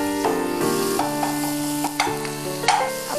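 Sliced tomato and salt hit spiced oil for a sardine dish, giving a loud, steady sizzle with repeated stirring and clinks of a spoon against the pan.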